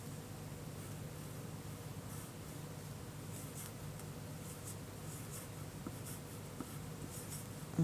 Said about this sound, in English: Go ahead and write your name here at the top.